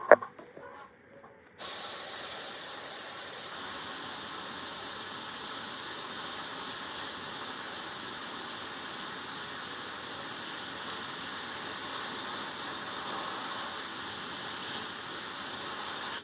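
An airbrush sprays dark green paint onto a Warhammer miniature: after a short quiet start, a steady, even hiss of air holds close and constant for the rest of the stretch, with no talking.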